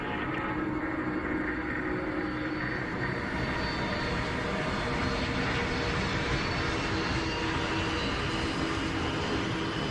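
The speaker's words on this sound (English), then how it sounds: "Roger, Air India 182, clear for takeoff." A steady, broad roar of an Air India 182 airliner's engines during takeoff, a continuous, even rumble and hiss with no talking.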